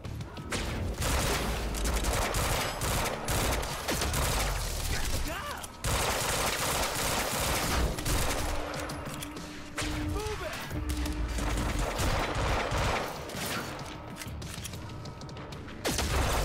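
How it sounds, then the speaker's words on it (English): Gunfire in the video game Quantum Break, dense bursts of automatic shots and impacts layered over a loud, busy game mix that stays steady for the whole stretch. "Where are they shooting from?"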